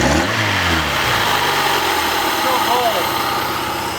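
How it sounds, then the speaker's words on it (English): A Honda Prelude's engine idles with a low, steady mechanical rumble, slightly rising at the start, close and loud with a constant hum throughout. "Sounds like it's idling okay."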